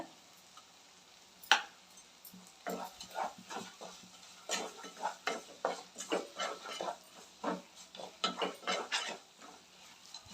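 Tomato masala cooks with turmeric and rock salt in a pan, with a faint low sizzle under repeated stirring strokes and spoon scrapes that come in uneven bursts. It is quiet and close, with no talking.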